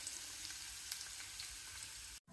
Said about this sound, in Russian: Жарится моя картошечка,